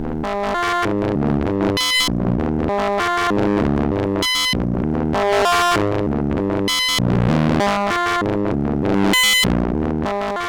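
Distorted, heavily processed tones swell and shift in a slow, cyclic pattern as a very slow sine wave modulates a Farbshaper effects processor, broken by sharp bursts at regular intervals, loud and continuous.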